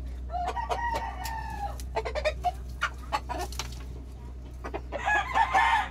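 Gamefowl rooster crowing loudly and close, with repeated cocks, clucks and bird calls around it, ending in a burst of crowing near the end.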